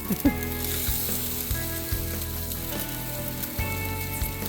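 Thin bacon sizzles and crackles steadily in a pan, a close hiss with occasional pops and scraping stirs, with a low mechanical hum running underneath.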